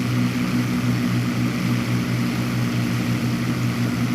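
P-40 Warhawk propeller engine drones steadily in a flight combat game, a loud, even, low throbbing hum with constant airflow noise and no talking.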